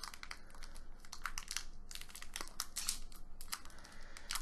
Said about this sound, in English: Let's open up the pack.